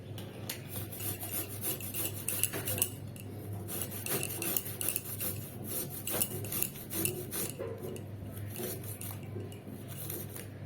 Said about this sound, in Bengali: এই আদাটাকে অল্প করে গ্রেট করে নেব